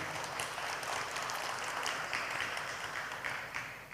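Steady applause from an audience at a formal industry launch ceremony, a dense even patter of clapping that holds for a few seconds before easing slightly at the end.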